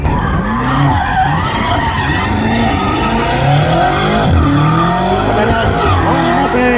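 A BMW engine revs hard at a car meet while its tires squeal and skid continuously, loud and close throughout, with crowd voices faintly underneath.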